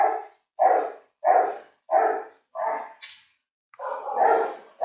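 Bac Ha puppies barking in a quick series of five close, loud yips and barks, followed by a brief high whine and a longer, rougher bark-growl while playing.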